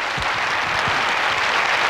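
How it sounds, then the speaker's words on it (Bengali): Dense, steady applause from a studio audience at a Bangladeshi television variety show, loud and continuous for about two seconds with no talk over it. "করতালি তাদের জন্য।"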